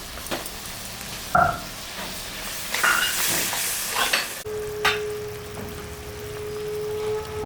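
Rohu fish curry base with water, salt and turmeric bubbles and sizzles in a pan, with clattering utensil knocks and stirring, and a steady tone toward the end; no one speaks.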